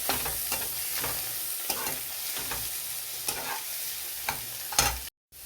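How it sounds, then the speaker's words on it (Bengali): Prawns frying with tomato in a pan crackle and sizzle steadily while a utensil scrapes and stirs in a repeating rhythm of distinct strokes, close and clear with no talking. "চিংড়ি মাছ দিয়ে দেবো। একসঙ্গে নাড়তে থাকবো।"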